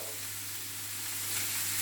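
Beef and green pepper fry in Irish rapeseed oil in a pan, giving a steady close sizzle and hiss that builds slightly louder toward the end, with no talking.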